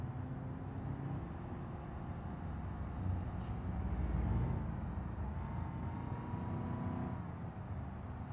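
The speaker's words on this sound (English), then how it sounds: "I'm gonna try and just listen to the car for a few minutes because cars in this sound really good." A car engine drones steadily while driving in BeamNG.drive on the East Coast USA map during a car delivery mission, a continuous low rumble with road noise that holds at an even level throughout.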